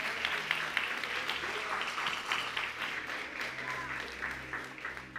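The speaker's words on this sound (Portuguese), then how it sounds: "Pode aplaudir ao Senhor." A church congregation applauds during a sermon, a moderate, somewhat distant patter of many hands with low room rumble and murmuring underneath.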